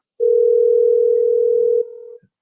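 A steady electronic test tone from the Google Meet speaker check plays clearly and loudly for about a second and a half, then drops in level briefly before cutting off, with no talking.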